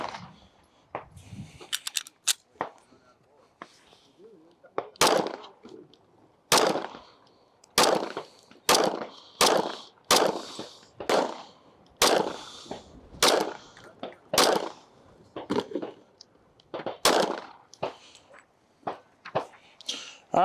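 Shots from a striker-fired .45 M&P 45 pistol ring out at an outdoor range, about fifteen sharp, loud cracks fired at an uneven pace roughly one per second, with faint quieter sounds in between.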